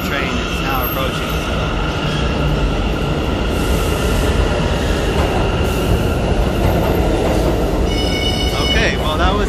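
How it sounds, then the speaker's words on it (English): An uptown NYC subway train on the IND 8th Avenue Line rolls into a Manhattan station, a loud continuous rumble of wheels with squealing and rail clatter, while a station announcement is heard over the noise. "And the uptown train is now approaching."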